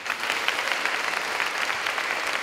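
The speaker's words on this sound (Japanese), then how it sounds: "大きな拍手をお送りください。" Full audience applause at a children's play-song grand prix award ceremony, with a dense, continuous wash of many hands clapping throughout.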